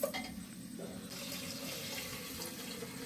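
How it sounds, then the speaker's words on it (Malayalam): Water pours in a steady stream into a pot of washed green gram for curry, its pitch shifting as the vessel fills, with a faint voice in the background. "വെള്ളം ഒഴിക്കണ്ടേ"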